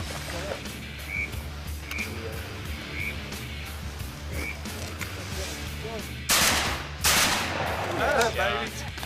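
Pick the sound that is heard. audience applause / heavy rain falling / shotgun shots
shotgun shots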